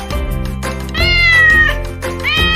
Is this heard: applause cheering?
no